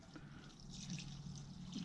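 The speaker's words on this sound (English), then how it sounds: "pour this fuel on." Fuel poured onto a bird during taxidermy drying, a soft continuous trickle and splash of liquid, faint and close, running steadily with small drips.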